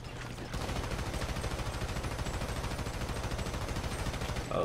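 Gunfire in a first-person video game, a fast run of evenly spaced automatic shots starting after a short pause and continuing steadily, moderately loud and close, with no talking.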